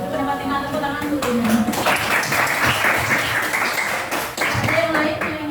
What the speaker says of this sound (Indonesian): Pendapat tinggal tepuk tangan dulu.